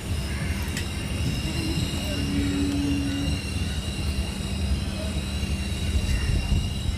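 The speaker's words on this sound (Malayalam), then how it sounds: "നമ്മൾ എന്താ തൃശ്ശൂർ റെയിൽവേ സ്റ്റേഷനിൽ എത്തിയിട്ടുണ്ട് കേട്ടോ" A train at Thrissur railway station gives a steady, loud rumble throughout, with a brief high wheel squeal and station noise around it.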